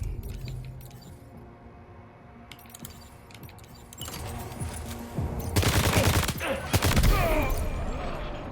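Suppressing gunfire in Death Stranding 2, quiet rustling and clicks at first, then loud overlapping volleys of shots erupting in the second half, close and sustained.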